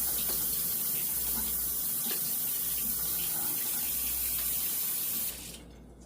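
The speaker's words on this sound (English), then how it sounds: "I'm just going to wet my little terracotta." A small terracotta brown sugar saver held under a running kitchen tap, a steady loud hiss of water splashing that cuts off near the end.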